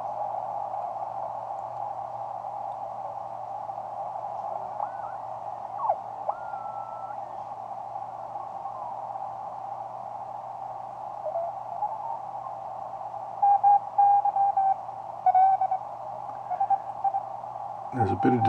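A shortwave radio receiver is tuned up across the 20 meter amateur band through small speakers, giving steady static and hiss with garbled voice fragments and brief tones sliding past, plus a low hum.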